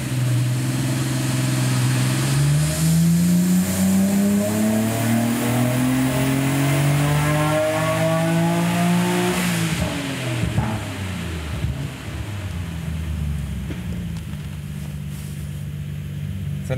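A turbocharged car engine on a boost control test run revs up in a long rising pull, loud and close, then drops back to a rough, lower idle-like drone.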